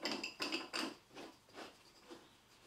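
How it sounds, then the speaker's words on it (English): Clamp on an Evolution Rage 5-S table saw being lowered and tightened: a few close, quiet ratcheting clicks and rattles in quick bursts, fading into softer scraping turns. "we can then lower the clamp down and we can tighten that fully"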